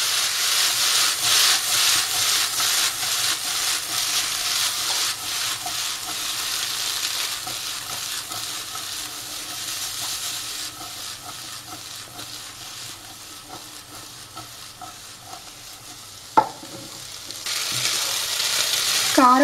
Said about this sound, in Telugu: ఇప్పుడు మనం బాగా మిక్స్ చేసుకోవాలి ఇలా టాస్ చేసుకుంటే